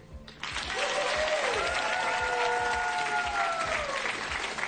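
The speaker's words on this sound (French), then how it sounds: "Delphine et Jean-Marc, applaudissements" Applause from a French TV game show studio audience starts abruptly and stays strong and steady, with cheering voices carried over the clapping.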